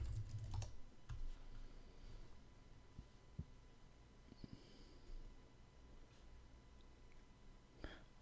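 Quiet, scattered keystrokes as a password is typed on a Mac keyboard, soft close clicks spread over a few seconds with a faint background hum and no speech.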